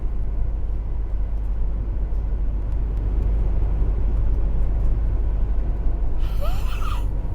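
A Renault Master van climbs a hill in fourth gear, its engine a steady low drone under continuous road and wind rumble, with a brief higher whine near the end.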